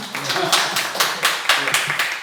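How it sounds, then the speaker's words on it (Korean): Indoor audience at a citizens' assembly policy forum applauds, with rhythmic claps rising and falling for a couple of seconds over a faint murmur of voices. "다시 한번 박수 부탁드립니다"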